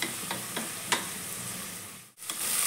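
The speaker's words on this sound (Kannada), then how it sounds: "ಸೊಪ್ಪು ಮೆತ್ತಗಾದ ತನಕನೂ ಫ್ರೈ ಮಾಡ್ಕೋಬೇಕು" Leafy greens with kasuri methi fry in a hot pan, a steady hissing sizzle broken by a few sharp stirring scrapes, close and fairly loud, briefly dropping out near the end.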